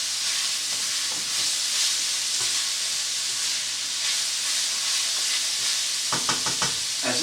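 Onions and sausage for jambalaya sizzle steadily in a hot pot, a constant loud frying hiss with a burst of stirring scrapes near the end.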